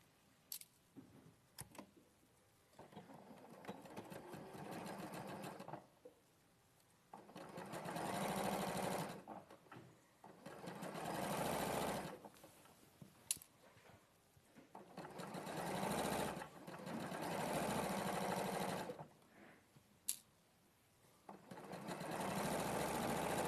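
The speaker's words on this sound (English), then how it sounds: "I'm just going to quickly sew that." A sewing machine stitches fabric in several bursts of steady whirring, each lasting a few seconds with quiet pauses and small clicks in between, close by with no talking.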